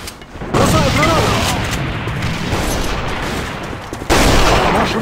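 Grenade explosion and gunfire in the online shooter A.V.A on the Castle Rock map. A loud, dense roar of gunfire runs throughout, with abrupt blasts near the start and again toward the end.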